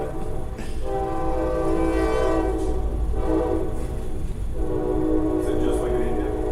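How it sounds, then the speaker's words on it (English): A train passes close by with a sustained, loud horn blast sounding over the rumble of the rail cars, continuous throughout with little pause. "wait for that train to pass."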